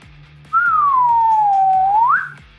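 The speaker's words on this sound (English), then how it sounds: "It's a slide whistle." A slide whistle sounds one loud, sustained tone that glides gradually downward and then swoops back up at the end, clear and close over a faint rhythmic background.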